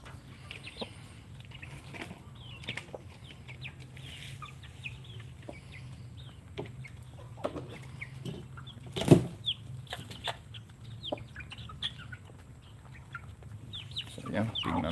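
Chickens cluck intermittently at moderate distance over a steady low hum, with a brief louder clatter like wing flapping midway; no talking.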